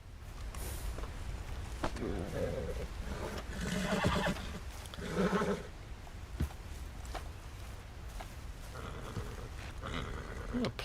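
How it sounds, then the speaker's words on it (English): A horse in the video game Red Dead Online whinnies loudly in a couple of bursts, with hoof clops and someone talking around it. "Oh, a player horse."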